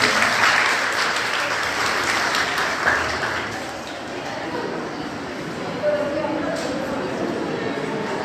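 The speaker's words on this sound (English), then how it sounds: "Have a big round of applause." Audience applauding at a college Defence Day celebration, a sustained broad wash of clapping with voices talking underneath.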